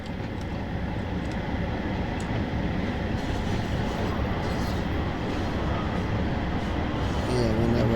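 Class 150 diesel multiple unit running in Train Sim World 2 on a West Cornwall route, a steady loud rumble of engine and wheels on track that stays constant throughout with no talk.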